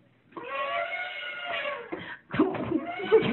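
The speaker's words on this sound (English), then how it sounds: "An elephant sounds like this." An elephant call played back by a Google Assistant device: a tonal, wavering trumpet lasting about a second and a half, then a rougher, broken burst of rumbling noise, moderately quiet throughout.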